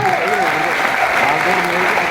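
Loud, steady applause from an audience at a network-marketing business event, a dense wash of clapping that fills the whole stretch with faint voices mixed in.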